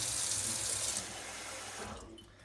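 A little water poured into a Ninja blender, a steady rushing stream that stops after about a second, leaving faint trickling, with no talk.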